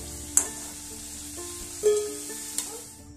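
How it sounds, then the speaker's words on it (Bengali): Potatoes fry in hot oil with a quiet continuous sizzle, broken by a few sharp clinks and stirring knocks from a utensil close by. "আলুটা ভাজা হয়ে গেছে,"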